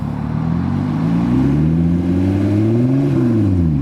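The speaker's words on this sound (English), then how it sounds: "have her do some peps and revs so you guys can actually hear it" A Lotus Evora S with a straight-pipe exhaust revs in sport mode, its loud, close, raspy engine note climbing and falling in a couple of blips against a steady idle.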